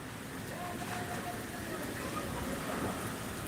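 Steady, dense rain falls continuously in stormy weather, a close, even hiss with no clear breaks and no distinct voices.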